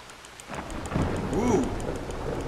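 Steady rain falls in a Red Dead Redemption 2 storm while a low thunder rumble swells and rolls through the middle, with no talking over it.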